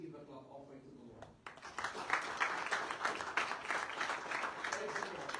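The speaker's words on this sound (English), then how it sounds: "Shall we give a clap offering to the Lord?" A church congregation gives a clap offering, with loud, busy applause starting suddenly after a moment of speech and carrying on steadily to the end.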